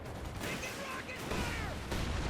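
Anti-tank gun and tank cannon fire in Company of Heroes 2, the Panther among them, heard as dense bursts of battle noise with shell impacts and whistling rounds, while a commentator talks over it.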